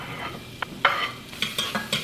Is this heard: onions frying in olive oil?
yes